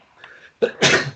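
A single person sneezes indoors during a tabletop role-playing game session, with a short quiet intake of breath followed by one loud, sharp burst.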